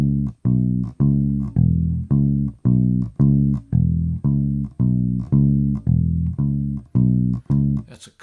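An electric bass plays a classic bass line from a blues tune, a steady repeating pattern of round, punchy low notes in an even shuffle rhythm, heard close and alone.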